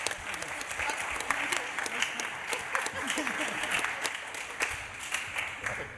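A conference audience in a large hall at a scientific meeting gives sustained applause, a dense, even patter of many hands continuing throughout at moderate distance, with some sharper claps standing out and faint voices under it.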